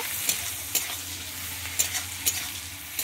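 Chopped onion sizzles gently in a pan, a soft steady frying hiss broken by several sharp scraping clicks of a spatula stirring, with no one talking.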